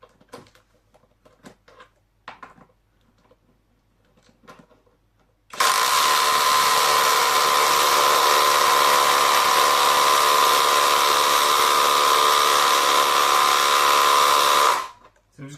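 A KAUSU impact driver sends a screw into wood in one sustained, loud, whining run of about nine seconds, preceded by quiet scattered handling clicks and stopping abruptly.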